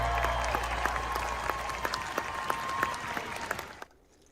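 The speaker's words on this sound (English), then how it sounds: "give yourself a motherfucking round of applause" Fairly faint applause from a small group, scattered individual claps popping out of a steady patter, stopping abruptly near the end.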